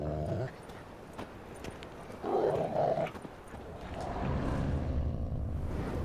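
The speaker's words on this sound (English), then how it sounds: "Just beware of the dogs." Dogs in The Witcher 3 video game, with a short burst of yipping and whimpering in the middle over a steady ambient game background of hoof clops and low rumble.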